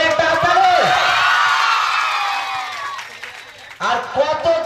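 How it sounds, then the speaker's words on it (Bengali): An audience cheers and whoops for a dancer after her performance, with loud, close shouting voices and crowd noise swelling and dipping over a few seconds before a fresh burst of cheers. "প্রীতির জন্য জোরে একটা হাততালি।"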